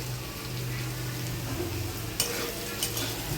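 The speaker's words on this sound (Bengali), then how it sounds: "আলুটাকে লাল করে ভেজে নেব।" Potatoes frying in oil in a pan while making chana dal, a steady sizzle with a couple of sharp scraping stirs near the end, close and alone.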